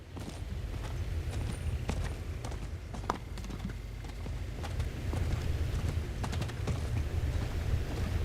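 Horse hooves clip-clop steadily beneath a rider in the Diablo IV video game, a faint, even walking rhythm over a low, continuous rumble of ambient noise.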